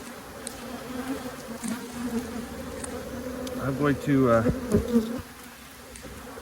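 A dense, steady hum of many honey bees buzzing around a hive holding partly built comb. Someone speaks briefly over the drone, and individual bees zip past louder now and then.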